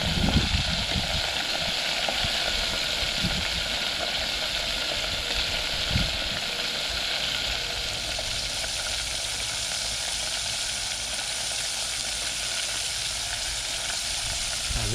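Calamari deep-frying in a fryer, a loud steady sizzle and hiss of bubbling oil running continuously, with a few low bumps early on.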